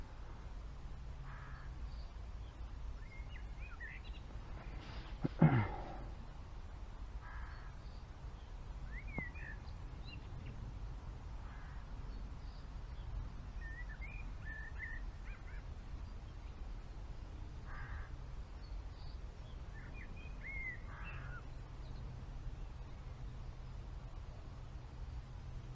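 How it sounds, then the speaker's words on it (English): Birds call sparsely along the River Adur at Mockbridge, with scattered short chirps and a few crow-like caws over a quiet outdoor background, one brief louder knock near the start. "All you can hear is the birds singing."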